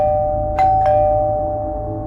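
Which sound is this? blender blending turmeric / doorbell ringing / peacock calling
doorbell ringing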